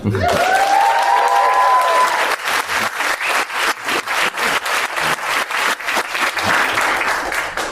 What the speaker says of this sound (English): Can I get a big round of applause for Alan?